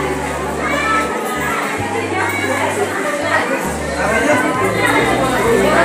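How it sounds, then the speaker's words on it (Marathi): A dense crowd chatters inside the hall of the Ambabai temple, with many overlapping voices, including children's, forming a constant loud murmur that fills the space. "आतमध्ये भरपूर गर्दी आहे"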